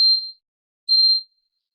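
A buzzer on a PLC control panel, rigged to a Productivity 2000 controller in auto mode with the cycle start button held, sounds two loud, steady electronic tones, the second following after a short silent gap.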